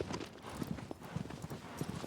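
Horse hooves clip-clop in Shadow of the Colossus, a quick uneven rhythm of close, moderately loud hoofbeats on hard ground running through the whole short stretch.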